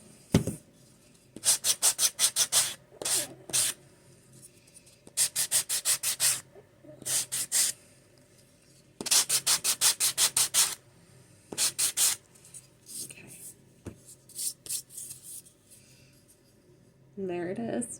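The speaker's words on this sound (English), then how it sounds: "Just going to keep filing until it's all off of the edge." A hand file scrapes along the edge of a Christmas coaster in quick, close, repeated strokes grouped into short bursts, with quiet pauses between them.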